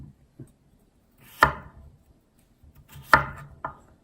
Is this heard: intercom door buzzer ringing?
no